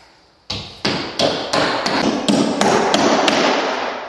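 Hammer nailing a curved, rounded drywall sheet into place: a run of about eight sharp, loud, close blows at a steady pace, each ringing briefly, with no talking.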